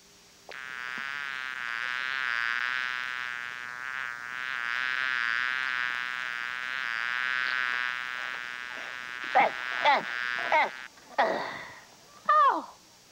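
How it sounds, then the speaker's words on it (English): A pesky insect buzzes around in a children's television segment, a long, steady, nasal whine that wavers for several seconds, then breaks into short swooping bursts and chirps near the end. "I just got rid of another pesky little insect."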